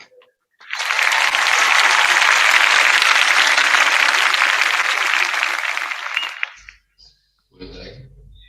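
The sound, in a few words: applause for Sabilina Elementary School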